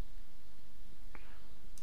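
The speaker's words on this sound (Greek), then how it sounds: "Κάνω κλικ στο OK" One crisp computer mouse click on the OK button in Photoshop, a single short tick over quiet room hiss.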